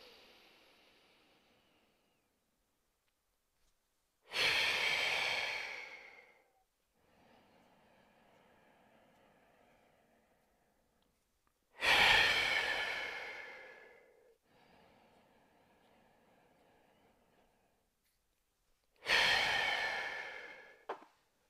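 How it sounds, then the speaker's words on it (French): A deep breathing exercise with six-count inhales and two-count mouth exhales: three loud, forceful breaths out through the mouth, spaced evenly, each followed by a quieter, longer inhale, close and alone. "je vais inspirer sur 6 à plein poumon, expirer sur 2 par la bouche"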